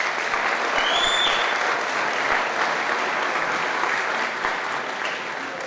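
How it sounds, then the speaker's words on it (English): Sustained applause from a gala audience rolls on steadily at moderate loudness, a broad wash of clapping with a brief high whistle early on. "just a round of applause for our gala committee and all the volunteers that put on tonight"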